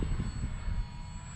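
A small FMS PA-18 Super Cub foam RC plane drones overhead, a steady motor hum with a faint high tone, mixed with wind rumble and outdoor noise.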